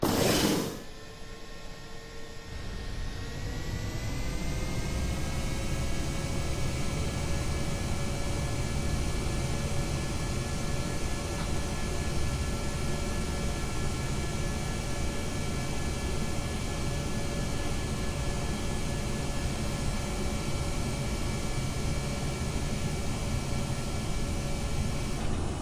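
A rocket lifts off in Kerbal Space Program, a steady broadband engine roar with a faint whine, starting with a sharp burst then holding loud and constant for the whole stretch, no voices.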